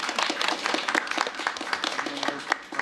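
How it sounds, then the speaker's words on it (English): People at a park board meeting clap for newly elected board officers, a moderate scattering of distinct hand claps from a small group, fairly close and steady for a few seconds with no speech. "So we'll give them a round of applause."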